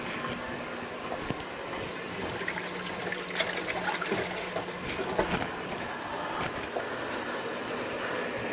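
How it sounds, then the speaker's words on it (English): Water runs steadily from a kitchen sink tap while hands are washed during breakfast prep of bacon and waffles, a continuous broadband splashing hiss with small irregular spatters, fairly close and with no talking. "First I should wash my hands."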